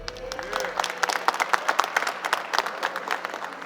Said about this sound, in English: I need everybody in the crowd to clap it up for me